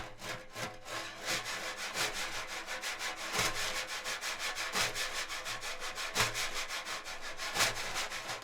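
Brush scraping across a frame drum laid flat on a surface, a quiet, breathy rasping swish repeated in uneven back-and-forth strokes with a few sharper accents, close up, no voices.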